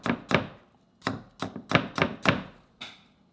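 Fresh turmeric, peel still on, is cut with a knife on a board for a northern Thai curry, giving a quick uneven run of about eight close, crisp thunking chops, with short pauses between them and no talking.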